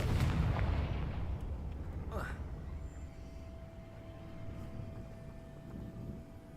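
A Confringo fire spell in Hogwarts Legacy bursts open with a loud, deep rumbling blast that rolls away slowly into a low fading roar, with a brief whoosh partway through; a player speaks over it.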